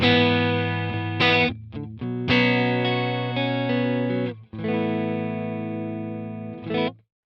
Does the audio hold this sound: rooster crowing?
no